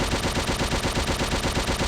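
Type 99 light machine gun in Call of Duty: World at War fires in a steady, loud stream of rounds at a noticeably slow cyclic rate, each shot distinct and evenly spaced throughout.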